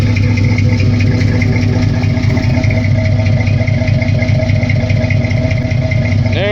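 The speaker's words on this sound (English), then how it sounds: "Just listen to that idle." A 1964 GMC truck engine idling without choke, a loud, steady, low rumble that runs unbroken from start to finish with no talking over it.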